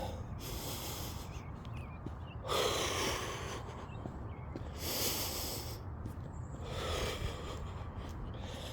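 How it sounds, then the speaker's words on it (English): A person breathes heavily after climbing stairs, catching breath in loud, close, rasping inhales and exhales that repeat every couple of seconds with no talk. "Slow your breathing down."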